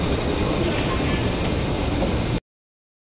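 An empty Hong Kong MTR train runs during a typhoon with a steady, loud rumbling roar and rattling wheel noise, cut off abruptly near the end.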